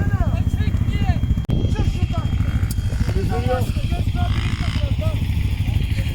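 An ATV engine runs at a Jeep off-road festival in Kumru Düzoba, Ordu, giving a loud, steady throaty rumble throughout, with excited voices shouting over it.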